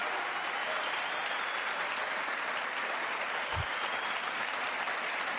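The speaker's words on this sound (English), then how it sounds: "Some of them clap." Applause from an audience at a State of the Union address, a steady dense wash of clapping that runs evenly through the whole stretch with no voices standing out.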